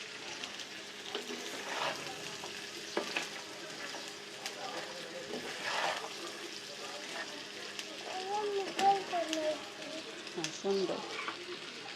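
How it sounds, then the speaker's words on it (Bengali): Spiced chickpeas being bhuna-cooked in a pan give a faint, continuous sizzle broken by soft scraping and stirring strokes, with a voice speaking briefly over it. "এখন ভালো করে নাড়াচাড়া দিয়ে অনবরত নাড়তেই থাকবো, ভালো করে মিশানোর আগ পর্যন্ত।"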